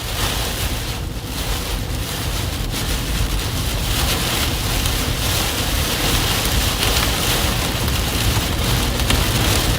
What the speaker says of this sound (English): Getting some pea-sized hail, it sounds like.